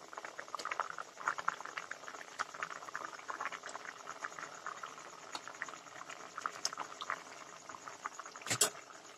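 Rohu fish curry gravy simmering in a pot, a soft continuous bubbling and popping with small irregular blips, fairly quiet and close, with one sharper burst near the end.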